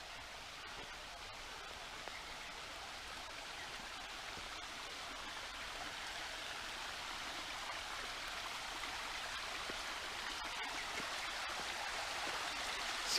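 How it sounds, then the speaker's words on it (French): A small waterfall on a flowing stream at St Pardon de Conques, heard as a steady, soft broadband rush of falling water, fairly faint and unbroken throughout. "Petite cascade."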